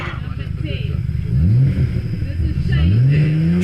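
A Nissan GTR at a hillclimb, its engine note rising and falling through revs as it accelerates hard, loud and close, with a voice talking over it.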